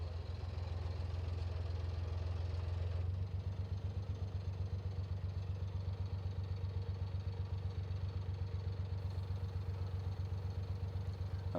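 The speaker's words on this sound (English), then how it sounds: "There's another boat coming" A passing narrowboat's steady, low engine chugs continuously on a canal with a regular pulsing throb, fairly close and unchanging, with no voices over it.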